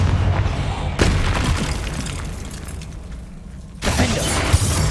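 A Confringo spell blast from Hogwarts Legacy bursts in with a sudden booming impact over dense game combat noise, followed by a rumbling tail and another loud surge near the end.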